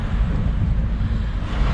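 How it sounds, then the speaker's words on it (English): Strong wind at sea on a sailing boat between the Faroe Islands and Scotland, a loud, constant rumbling buffet of gusts across the microphone with a wash of water underneath, no voices. "I was lately resting and realized it had gotten too windy."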